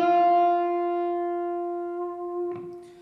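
A single electric guitar note bent up a half step and held steady without vibrato, ringing clearly on its own before fading, with a light pick attack near the end.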